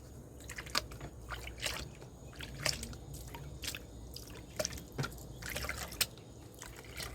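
Water sloshing and dripping as black sand washes over deep riffles in a gold pan during prospecting, soft irregular splashes and trickles, close and fairly quiet, without talk.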